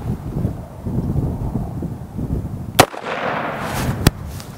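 Two sharp shots from a shotgun or AR rifle ring out at a firing range, about a second apart, with the second a bit cleaner, over steady wind noise on the microphone.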